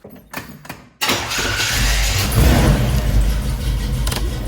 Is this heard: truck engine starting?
yes